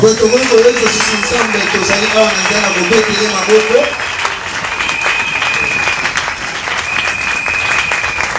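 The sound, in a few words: church congregation acclaiming with applause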